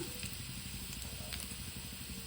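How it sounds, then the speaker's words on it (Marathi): Onion frying in a pan with curry leaves, a soft steady sizzle and faint crackle running evenly throughout, fairly quiet and close. "मी कांदा भाजलेला आहे थोडा"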